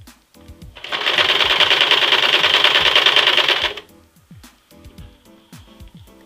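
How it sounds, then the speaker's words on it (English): A sewing machine runs in one steady, loud burst of rapid stitching for about three seconds while hemming jeans, with quieter handling sounds before and after and no speech. "And sew all the way around."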